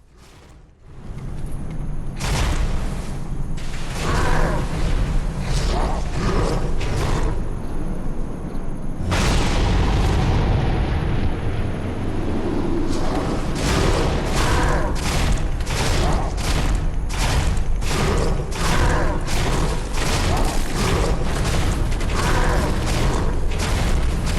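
Explosions and crashing destruction as a tower falls in the VR video game Megalith, loud booms followed by bursts of rapid impacts and mechanical clatter.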